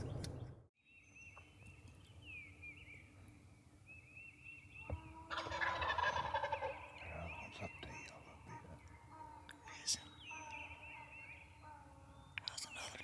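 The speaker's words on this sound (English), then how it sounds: "There's another turkey just going to the left." A wild turkey gobbles in an open field during early spring season, the calls rising loud and clear over steady background rustle, with another burst of gobbling and soft whispered talk around it.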